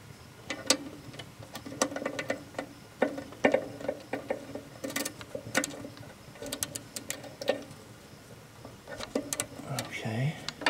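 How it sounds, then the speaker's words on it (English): A socket wrench ratchets on a bolt of a 1977 Ford F250 rear wheel, producing irregular bursts of sharp, close clicks scattered across the stretch. "I'm going to break it loose with a socket wrench"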